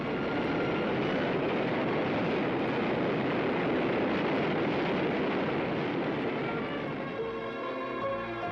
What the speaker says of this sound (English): man has designed, built, and tested sleek new hypersonic aircraft that today fly to the dark edges of space